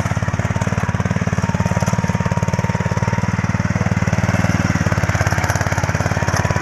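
A petrol-engine soil tiller with steel claw tines runs in a shallot field, giving a loud, close, steady chugging drone with a rapid regular beat throughout, with no voices.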